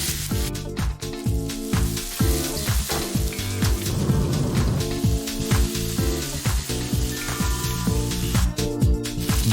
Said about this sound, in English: First, fry your chopped vegetables.